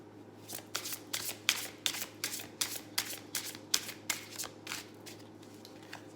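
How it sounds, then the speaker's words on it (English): A tarot deck gets a hard riffle shuffle: about a dozen crisp, close, evenly spaced bursts of flicking cards that fade toward the end, with no voices. "good hard shuffle for the Healing Light Tarot deck."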